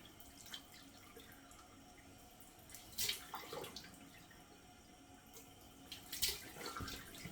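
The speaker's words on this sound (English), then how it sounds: "let me splash on 2 splashes of cold water" Cold water splashed onto a face at a bathroom sink, two brief wet splash bursts standing out over a steady background hiss, close and fairly quiet.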